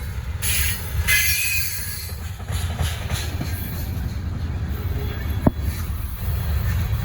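A Norfolk Southern freight train rolls steadily past close by, with a constant low rumble of wheels and cars, brief flange squeals and a sharp metallic screech partway through.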